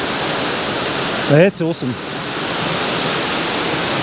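Thac Tinh Yeu, the Love Waterfall, high in the mountains at about 2000 meters, rushing with a constant broad roar of falling water, and a person speaks briefly over it.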